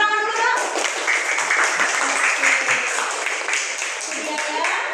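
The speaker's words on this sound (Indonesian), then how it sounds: "Tepuk tangan dulu dong" Hands clapping together in a classroom after a student group presentation, a dense, steady patter that runs the whole time, with voices mixed in among the claps.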